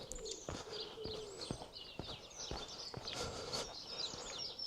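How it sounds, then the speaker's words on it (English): Outdoor birdsong with chirps and soft cooing, several birds calling at once, accompanied by sharp intermittent ticks in the foreground. "I can hear the beautiful sounds of the birds."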